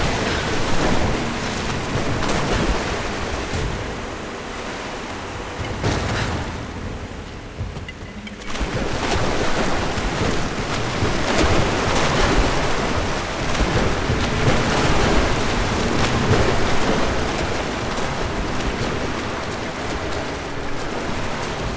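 Water surges and rises with a loud, continuous rushing roar in Rise of the Tomb Raider, briefly dipping before swelling again and churning on steadily.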